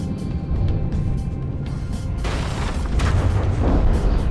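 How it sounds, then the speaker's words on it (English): Missiles from a Mark II hover craft striking targets in the naval combat game From the Depths, heard as a continuous deep rumbling roar of blasts that swells louder midway and stays heavy to the end. "I think it is time for the Mark II hover to kick in with its missiles."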